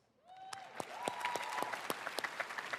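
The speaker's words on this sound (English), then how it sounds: "Keep it clapping, keep it clapping" Crowd at a Canva Create conference keynote breaks into applause after a brief tone, rising quickly into dense clapping with sharp individual claps standing out, steady to the end.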